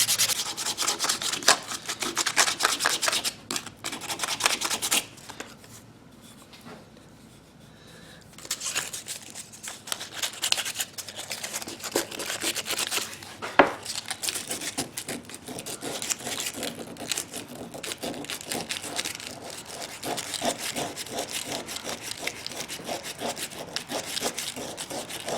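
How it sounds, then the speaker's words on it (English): Sandpaper rubs along the wood of a custom knife handle with the grain in continuous close back-and-forth strokes, pausing briefly partway through before the scratchy sanding resumes steadily. "we're just going to sand with the grain"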